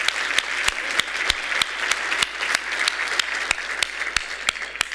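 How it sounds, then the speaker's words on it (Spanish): Applause at a church service after a sermon title is announced, a steady wash of clapping with sharp, regularly spaced loud claps standing out, fairly close and sustained throughout. "un aplauso al Señor"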